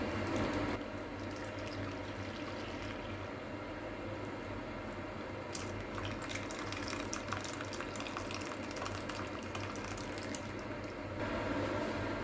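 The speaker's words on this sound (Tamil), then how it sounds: "அதில் வந்து இந்த பாலை வந்து நம்ம ஊற்றிக்கலாம்" Milk poured into a container of tutti frutti for sago tapioca pudding, a steady close splashing liquid stream running throughout with a brighter gush partway through.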